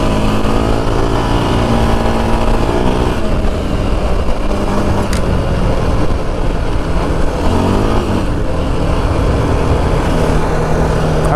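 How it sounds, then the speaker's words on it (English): Yamaha Raptor 700 quad ridden in the Arizona desert, a continuous loud engine drone with rising and falling revs over the whole stretch, close to the rider and without talk. "haven't ridden the quad in a while, and it's just a lot easier to get on and go ripping than the dirt bike"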